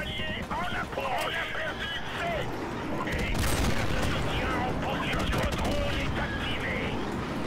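Rapid bursts of AK-47 automatic fire in a first-person shooter video game, dense and continuous across the whole stretch with overlapping shots and explosions, loud and busy, with a voice talking underneath.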